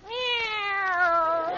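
On a 1950 radio comedy show, a human voice imitates a kitten, giving one drawn-out, clear meow that lasts about a second and a half.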